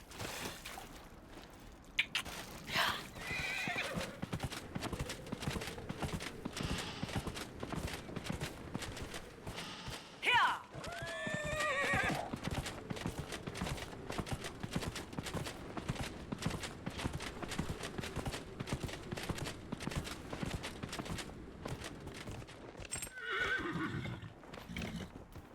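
Steady clip-clop of hooves plods along throughout, with a horse in the video game Dragon Age: Inquisition whinnying twice, once midway and once near the end.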